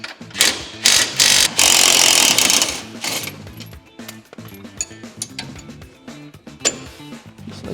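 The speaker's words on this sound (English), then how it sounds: "you should be able to remove them with an impact" An impact wrench zips bolts off an off-road side-by-side while fitting limit straps: loud bursts of rapid hammering, then a stretch of lighter mechanical clicks and clinks as the loose bolts are handled.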